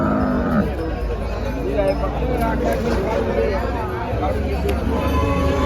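Cattle at a busy Dhule livestock market, with cow lowing and animal noise amid a constant hubbub of crowd chatter and nearby voices talking.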